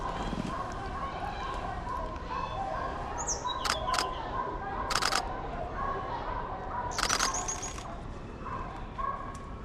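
Birds call in a community forest during a bird fair in Ranibari, with short sharp chirps and whistles over steady background murmur, while people talk nearby and a camera clicks in bursts.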